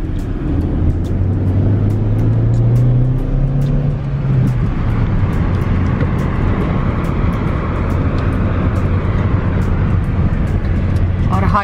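A car drives along a busy highway with a steady, loud road and engine rumble and passing traffic noise throughout, while people talk inside the vehicle.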